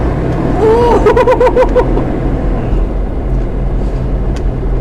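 A car accelerates at full throttle from inside the cabin, a loud steady engine drone rising under a brief voice, with a bus-like, unhurried but continuous pull.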